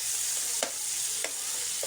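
Dried fish frying in a pan with soy sauce, a continuous bright sizzle with a few faint stirring scrapes at regular intervals.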